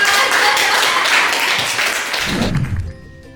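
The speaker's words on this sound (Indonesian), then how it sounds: "Oke, kasih tepuk tangan." A crowd claps loudly for a couple of seconds, then the applause thins out and fades, followed by a low thump.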